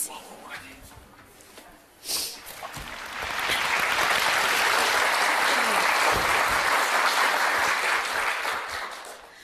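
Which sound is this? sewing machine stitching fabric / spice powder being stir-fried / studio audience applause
studio audience applause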